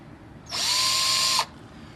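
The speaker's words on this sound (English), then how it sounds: "you should be able to drill your 900 holes with 1 bit and no trouble" A power drill with a bit bores a hole in one short whine of about a second. It rises sharply and cuts off cleanly over a quiet background.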